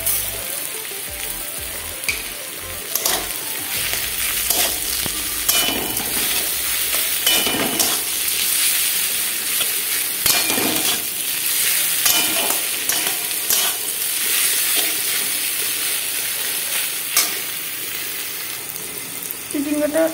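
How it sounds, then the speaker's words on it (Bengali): Chopped snake gourd frying in a pan with oil, a loud steady sizzle and crackle close up, broken by repeated spatula scrapes and stirring clatter, with no talk. "চিচিঙ্গাটা ভাজা হয়ে যাচ্ছে না।"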